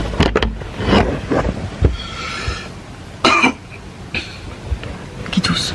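A few short, sharp coughs break out amid background chatter and room noise, fairly close.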